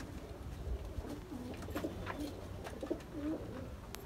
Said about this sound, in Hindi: करें बड़े कबूतरों का शौक, जिसमें क्रॉस टैडी, रामपुरी, एक से बढ़कर एक कबूतर